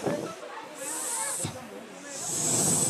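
Children at a birthday party imitate a snake's hiss with two long, breathy hisses, the second louder and more sustained, after a moment of background chatter.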